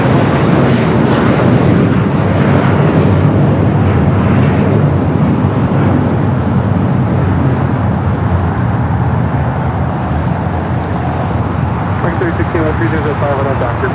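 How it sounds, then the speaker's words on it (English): United Boeing 757-200 airliner in older livery at LAX: a loud, sustained jet engine roar fills the whole stretch, with a voice speaking underneath it near the end. "Look at that, we just had another United 757-200 wearing the older livery"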